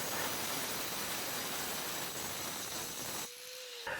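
An angle grinder cutting through a metal bolt head gives a harsh, steady, loud grinding hiss, then the cut stops abruptly and a fading whine is left as the disc spins down.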